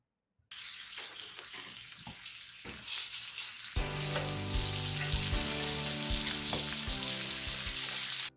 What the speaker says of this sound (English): I love this sizzling sound.